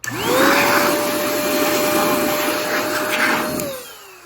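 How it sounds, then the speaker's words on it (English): An air blower clears sealant out of a Mercedes-Benz S-Class headlight housing. It starts with a sharp whoosh, holds a loud, steady whine for about three and a half seconds, then cuts off. "We use a blower like this."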